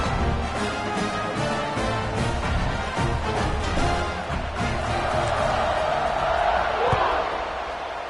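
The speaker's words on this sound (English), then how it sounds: "this crowd is feeling themselves after that last drive" A football stadium crowd cheers in a loud, steady roar during a Washington vs North Carolina game as the kickoff unit takes the field, with an announcer talking over the noise.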